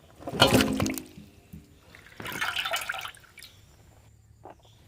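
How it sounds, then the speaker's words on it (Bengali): Cauliflower and potatoes washed together in water for a village-style chicken curry, two bursts of splashing and sloshing close by, separated by quiet drips. "ফুলকপি আর আলুটা এবার ধুয়ে নিচ্ছি একসাথে।"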